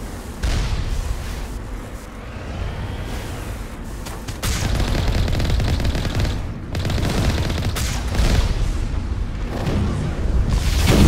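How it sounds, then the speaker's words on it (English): Geth enemies in Mass Effect Legendary Edition unleash loud, dense gunfire: rapid bursts of shots with booming impacts that come in waves with brief lulls, close and continuous, with no voices. "Got some geth presents over here, and they are shooting the crap out of me"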